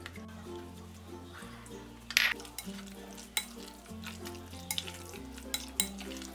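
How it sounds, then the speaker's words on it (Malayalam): Washed prawns being stirred into masala in a cooking pot, giving soft scraping and a few sharp metallic clinks of a spoon against the pot, while music plays underneath. "ഇനി ഇതിലേക്ക് ഈ കഴുകി വെച്ചിരിക്കുന്ന പ്രോൺസ് ഇട്ട് ഒന്നും കൂടി ഇതൊന്ന് മിക്സ് ചെയ്ത് കൊടുക്കാം."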